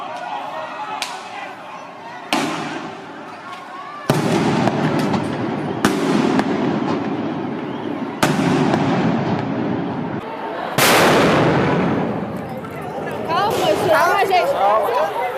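Bombs going off at a street protest in a public square: a string of sharp, loud blasts, roughly six spread over several seconds, each ringing out over a crowd's steady murmur and shouting.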